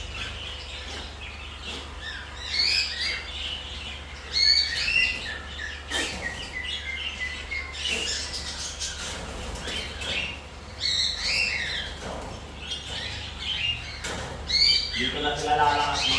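Many small birds chirp and tweet in a flight cage, a busy, overlapping chorus of short calls with a few brief wing flutters, heard alone at moderate distance without talk.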